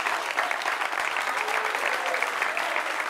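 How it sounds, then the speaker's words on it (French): A studio audience on a French-language talk show claps steadily to welcome two arriving guests. The applause is dense and even, with no pauses. "Applaudissements pour eux"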